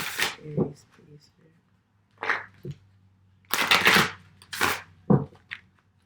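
A deck of Adinkra Ancestral Guidance cards gets shuffled in several brisk bursts of riffling and flapping, close by, with quiet gaps between them.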